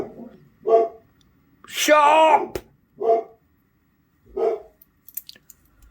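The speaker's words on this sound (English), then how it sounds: "there's my fucking dog deciding to bark" A pet dog barks indoors in short sharp bursts, about four barks spread over several seconds, close and loud, and a voice briefly shouts over one of them.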